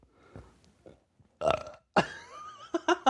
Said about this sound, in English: The burp.